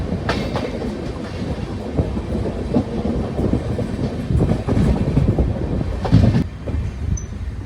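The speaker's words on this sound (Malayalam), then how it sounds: "കടയ്ക്കാവ് എന്തായാലും ട്രെയിൻ ഇപ്പോൾ നിർത്തിയിട്ടുണ്ട്." A long-distance express train rolls into Kadakkavu railway station in Kerala, with a heavy continuous rumble, rhythmic wheel clatter and brake hiss all close by as it slows to a stop.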